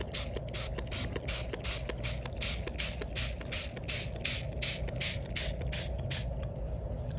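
A spray bottle mists water onto Jen Ho painting paper for a Chinese seascape, a rapid, even series of about twenty short hissing squirts with faint mechanical clicks of the trigger, close and fairly quiet.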